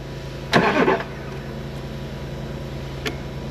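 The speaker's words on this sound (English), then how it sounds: "I'm going to go and turn the car on" A parked car's engine cranks and catches in a short loud burst, then settles into a steady low idle, followed by a faint click.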